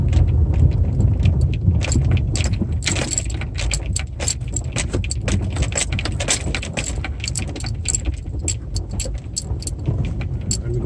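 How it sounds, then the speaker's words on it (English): A 2011 Hyundai Santa Fe AWD V6 crawls off-road over rocks, its suspension and body rattling with steady clunks, jangles and knocks above a continuous low engine and road rumble, close and loud throughout. "you're hearing the car making funny bouncing sounds and everything"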